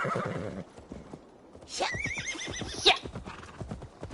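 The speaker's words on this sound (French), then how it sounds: "Attends, on va appeler Monsieur Cheval." A horse neighs loudly mid-clip in the video game Assassin's Creed Valhalla, a shrill wavering whinny, with hoofbeats clopping before and after it.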